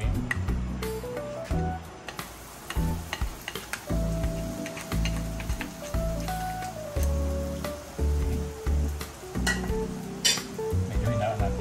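Dairy cream sizzles gently in a hot pan with soft stirring scrapes and clinks, steady and close, with a low background hum.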